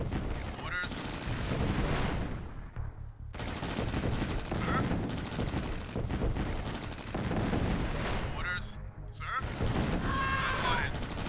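Continuous battle gunfire and explosions in Command & Conquer: Tiberian Sun, dense rattling bursts and booms that are loud and sustained, with brief unit voice responses in between.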